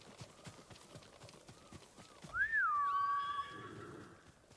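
A horse in the Ghost of Tsushima video game gives one clear, rising-then-falling whinny that trails off, over faint hoof clops and light ambient wind.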